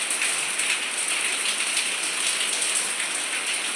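Heavy rain pours steadily during a night-long storm, a dense, continuous hiss of drops drumming on surfaces close by, loud and unbroken throughout with no voices.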